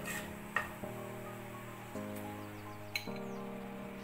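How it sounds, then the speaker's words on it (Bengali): Black cumin and a dry chili tempering get stirred in a pan, with light metallic clinks and scrapes of the utensil over a quiet steady hum, a few sharp ticks standing out. "এবার ফোড়নটা একটু নাড়াচাড়া করে নিচ্ছি"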